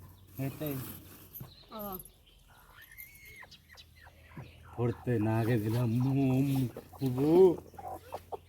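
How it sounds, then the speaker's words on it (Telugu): Chickens cluck in repeated bursts nearby, mixed with other background voices and rustling. "కోడిని తేవాలట"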